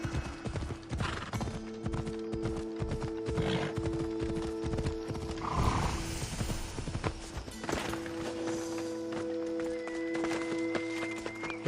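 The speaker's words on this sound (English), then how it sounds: "Okay, mountain horse, let's do this." A mountain horse gallops in Assassin's Creed Odyssey, its hooves clip-clopping in a steady, close rhythm for the whole stretch, with a whinny partway through over game ambience.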